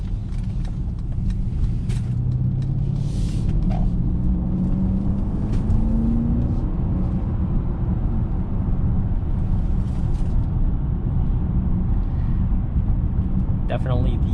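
Mercedes-Benz GLE 580 cruising on the highway, a steady cabin rumble of road and engine noise with a faint rising engine tone, continuous and close, with someone talking over it at times.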